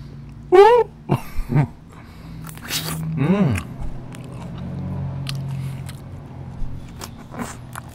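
Biting and chewing a Drumstick ice cream cone with a waffle cone and chocolate inside: a few close, crisp bites early on, then softer chewing and mouth sounds, with brief voiced noises between them.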